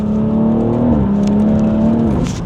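A BMW M135i's engine pulls hard under acceleration while driving, a close, steady drone that rises smoothly in pitch, heard from inside the car with no talk.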